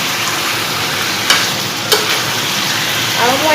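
Mutton cooked with little spice sizzles and fries steadily in a pan, a loud continuous hiss broken by a couple of sharp stirring clicks, with no talk.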